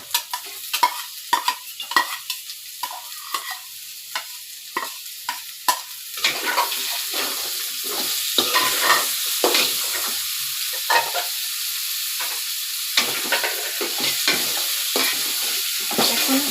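Chopped potatoes are dropped into hot oil in a pan and stirred, scraping and clattering in uneven strokes at first, then a steady loud sizzle of frying fills the background close by.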